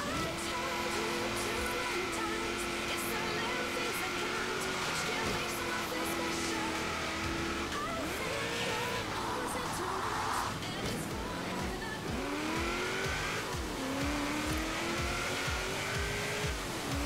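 A car in Forza Horizon 3 slipping on a wet race track, its engine droning steadily and rising and falling with revs, with tire squeals at corners and faint talk underneath.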